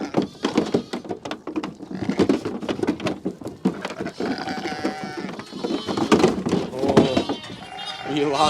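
Ewes and lambs bleating outdoors at a farm gate during lambing, several overlapping calls near and far, with rustling and a person speaking among them.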